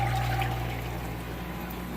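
An aquarium pump moving 1,400 gallons per hour gives a constant close pouring, gushing rush of water with a low motor hum underneath.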